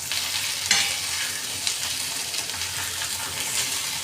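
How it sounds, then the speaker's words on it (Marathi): Okra frying on a hot tawa is stirred and turned, giving a steady close sizzle with soft scraping and clinks from the spatula, continuous and without any voice. "वर खाली करून फिरून घ्यायची भेंडी."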